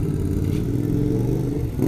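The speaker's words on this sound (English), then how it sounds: "Look, he's going to rev it again." A Yamaha Thunderace motorcycle engine, freshly installed in its frame, revs up close with a loud, steady low rumble that holds through the short stretch, no voices present.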